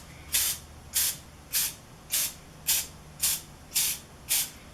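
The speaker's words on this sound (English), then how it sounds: "I like to spray the insides of my cupcake liners with just a little bit of cooking spray" Cooking spray squirts into cupcake liners in eight short, even hissing bursts, spaced about half a second apart, close and clear with no talking.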